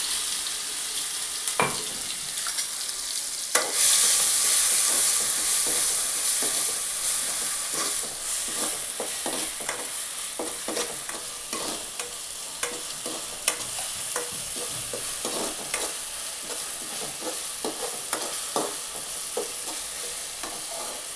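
Ginger, garlic and chili paste frying in a pan for aloo paratha, a steady close sizzle broken by frequent scraping stirs and clicks of a spoon, with no talk.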